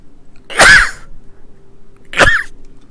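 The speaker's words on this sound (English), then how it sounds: "Hold on, I gotta sneeze." Two sharp, close sneezes about a second and a half apart, each a quick breathy burst with quiet background hum between them.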